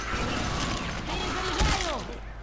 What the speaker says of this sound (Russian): Перезаряжаю!